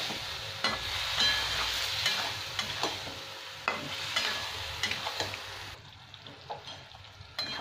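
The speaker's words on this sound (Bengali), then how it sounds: "আমি গ্যাসটা কমিয়ে দিয়েছি। বর্তমানে নাড়তে থাকবে।" Potato curry with yogurt being stirred in a pan over a lowered flame, a soft continuous sizzle broken by repeated scraping spoon strokes, close and moderately loud, without speech.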